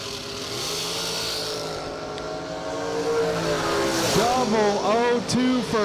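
Jegs dragster at a drag strip, a revving engine whose rising and falling pitch sweeps build in loudness, with an announcer's voice talking over the racing sound.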